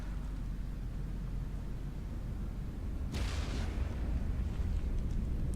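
An explosion in the From The Depths naval and vehicle combat game, a cram cannon tank detonating on itself, bursts out loud and broad over steady low game rumble, then a dense roaring wash trails off for a couple of seconds.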